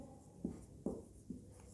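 Chalk tapping and scraping on a board in three short, evenly spaced strokes, moderately close, with faint room tone between them and no talking.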